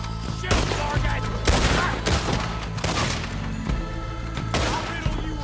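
Gunfire in the Red Dead Redemption 2 video game: a dense firefight of repeated loud shots and booming impacts in rapid, irregular bursts, layered over game music.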